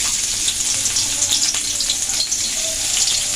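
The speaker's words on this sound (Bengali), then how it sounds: "গরম হয়ে গেলে ছোট ছোট করে এই যে পেঁয়াজ কুচিয়ে রেখেছি, খানিকটা পেঁয়াজ এতে দিয়ে দেবো" Finely chopped onion frying in hot mustard oil gives a steady, close, bright sizzle with faint crackles throughout, with no voices.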